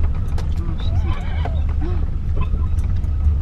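A horse whinnies amid the crowd noise of the Sutton farm show, a few wavering neighs heard at moderate distance over a steady background rumble, with people talking nearby.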